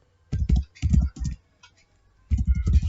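Typing on a computer keyboard while writing Python code: three quick bursts of close, crisp key clicks separated by short pauses, with no talking.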